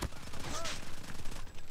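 A rapid burst of Fennec submachine gun hipfire sounds in COD Mobile, a dense rattling stream of game gunshots with a brief electronic tone mixed in.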